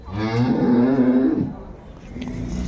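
A young bull at a rural cattle market in Dinajpur lets out one loud, drawn-out moo up close, fading after about a second and a half into background market noise.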